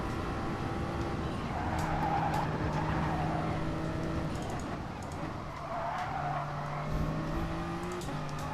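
Race cars on the Nordschleife in GT Sport roar steadily with engine drone, tire squeal and skidding through corners, loud and continuous throughout with overlapping engine notes.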